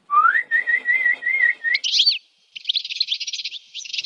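A person whistles to imitate a songbird, a steady warbling trill that jumps to quick high chirps, then a rapid fluttering burst after a short pause, loud and close with no other sound.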